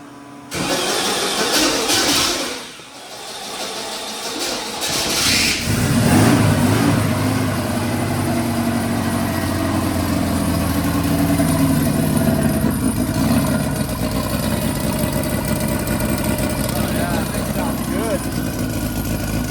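A newly built old-school dune buggy's engine cranks, catches and roars to life, then settles into a loud, steady idle with a rough mid-range rumble that runs alone for most of the stretch.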